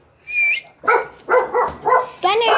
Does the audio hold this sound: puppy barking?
yes